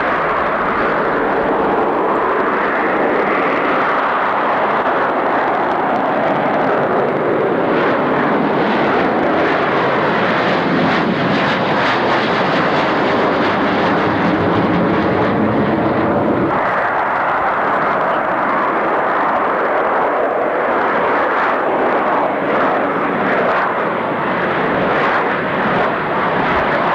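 Loud, continuous roar of aircraft engines at the Farnborough Air Show in 1990, a jet sweeping past with rising and falling pitch and a sharp shift midway, filling the whole stretch with no talk.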